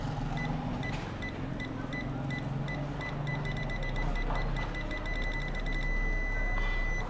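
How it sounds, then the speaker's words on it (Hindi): A UNI-T UT89XD multimeter on its non-contact voltage setting beeps as it is held near a live wire, giving a steady run of rapid, evenly spaced electronic bleeps over a faint background hum. "जितना आप करीब ले जाएंगे ये आहिस्ता आहिस्ता जो इसकी बीप है वो बढ़ती जाएगी"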